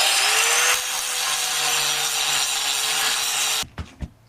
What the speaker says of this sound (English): I want to finish grinding up to here, and then flip over to the other side.